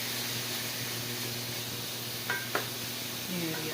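Chicken browning in a hot pan, a steady close sizzle and hiss running throughout, with a few brief stirring scrapes near the end.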